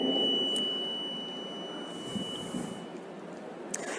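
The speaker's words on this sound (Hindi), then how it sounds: "फिर जब ये पर्ची 60 सेकंड बाद कट के गिरेगी तो 5 सेकंड की बीप की आवाज़ यहाँ पर सुनाई देगी।" A VVPAT voting machine gives a long, steady electronic beep as the printed slip is cut and drops. The tone is fairly faint and continuous over background room noise, then stops partway through.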